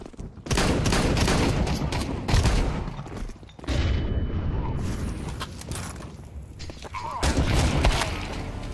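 Gunfire from a video game comes in loud, clattering bursts separated by brief pauses, with mechanical clicks and thumps between the volleys.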